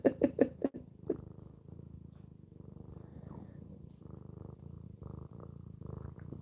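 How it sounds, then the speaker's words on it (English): A cat purrs loudly and close, a steady low rumbling pulse, preceded by a few sharper, louder sounds at the start, with no talking. "Y'all hear her purring?"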